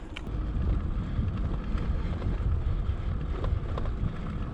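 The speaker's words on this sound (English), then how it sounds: "Wind's coming further east." Steady wind buffets and roars across the microphone during an outback bike ride on a road in the Kennedy Ranges, Gascoyne, Western Australia, a constant low rumble with no voices.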